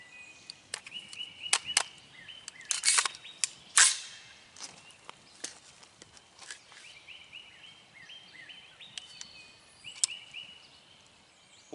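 Gunshots from an AR pistol and rifle fired outdoors, a series of sharp, cracking reports spaced irregularly, some in quick pairs, with birds chirping faintly in the background between shots.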